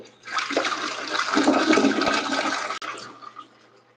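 A toilet flush, close and loud, rising quickly into a rushing swirl of water for a couple of seconds and then draining away to quiet, with no talking.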